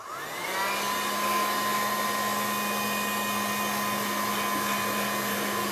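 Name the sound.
hair dryer drying mixed media canvas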